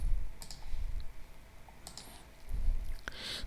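Mouse clicks on a calculate button while filling in a small-business tax return, two or three short, close, dry clicks with gaps between them, no talking.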